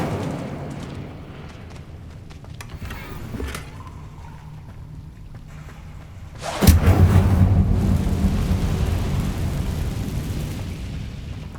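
Incendio fire spell cast in Hogwarts Legacy, a sudden loud whooshing burst of flame that roars on as a sustained rumbling blaze after a quieter stretch of ambient rumble and faint crackles.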